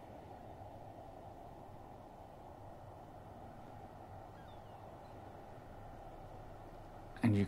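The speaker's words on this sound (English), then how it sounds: "Oh, that wind bed's quite loud." A wind ambience bed sits in an FMOD game audio mix as a faint, steady, broad rushing noise with no variation throughout. A brief louder burst comes right at the end.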